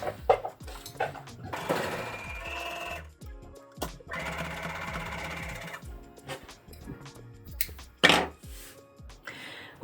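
A sewing machine stitches layered eye mask fabric pieces together, running in several bursts of rapid mechanical whirring separated by brief pauses and sharp clicks, fairly close and alone with no talk.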